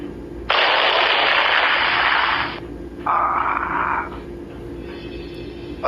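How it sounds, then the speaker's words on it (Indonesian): A loud, harsh crackling lightning strike blast bursts in and roars for about two seconds, followed by a shorter second burst and a fainter trailing crackle. "Petir menyambar keras dan meledak"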